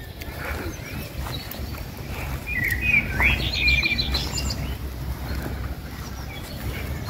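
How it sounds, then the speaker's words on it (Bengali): Birds chirp and trill in a quiet pine forest in Soğuksu National Park, with a few clear mid-distance calls in the middle over a low steady outdoor rumble. "শুধু পাখির শব্দ শোনা যাচ্ছে।"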